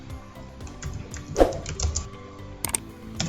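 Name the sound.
typing on a computer keyboard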